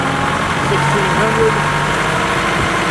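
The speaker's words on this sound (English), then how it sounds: "So I'm going to increase my RPMs here to about" Kubota M5660 SU tractor with a Tier 4 diesel engine steadily running and building revs, a loud continuous drone with a faint rise in pitch, nearby and alone.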